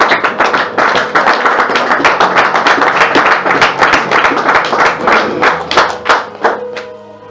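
A church congregation breaks into sustained, loud clapping and applause that fills the room, keeps up steadily for several seconds and then thins out toward the end.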